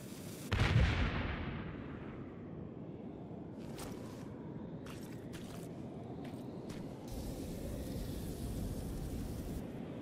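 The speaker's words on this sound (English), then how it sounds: "Throw grenade they pop." Grenades go off in the Terminator Resistance video game: one sharp blast rolls into a long fading rumble, while distant crackling pops sound over a steady low din of battle.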